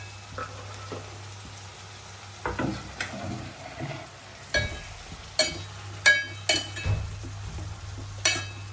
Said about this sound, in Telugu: ఇప్పుడు ఈ టమాటాలు కూడా వేసేద్దాం అందులో